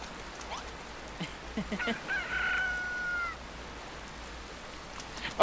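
A chicken in the video game Dragon Quest Builders 2 gives a few quick clucks followed by one drawn-out squawk over quiet game background sound.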